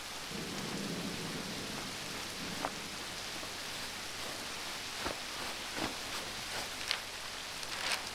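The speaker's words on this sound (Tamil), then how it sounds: "மழை பெஞ்சிட்டு இருக்கு" Steady rain pours down, a dense hiss of drops with sharp irregular patters and splashes on nearby surfaces, continuous and fairly close, with no voices.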